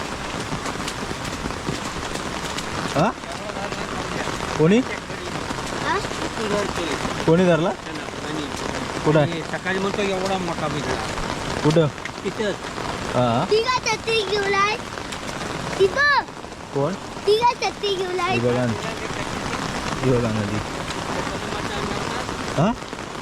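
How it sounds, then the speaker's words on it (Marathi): Heavy monsoon rain in Konkan near the Kajali river, a steady dense hiss of rain on surfaces with people talking intermittently over it. "जोरदार पाऊस पडतोय"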